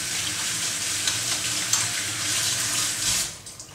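A crepe cooking in a SUPRA WIS-500 crepe maker gives a steady, loud hiss and sizzle that runs continuously and eases slightly at the end, with no voices heard.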